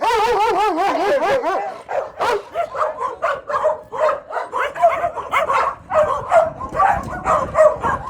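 Dogs at an animal shelter in Myrnohrad bark and yip in quick, wavering bursts, nearby and loud at first, then settling into a steadier run of barks and whimpers over the whole stretch.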